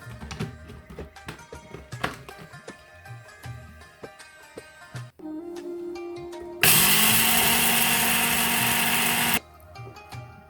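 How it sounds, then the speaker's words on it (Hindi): Masala spices being ground in a blender for mutton achaar gosht, first some clatter and handling of the jar, then a loud, steady whirring grind that runs for about three seconds and cuts off abruptly. "इसको बंद करके मैं इसको ग्राइंड करूँगी।"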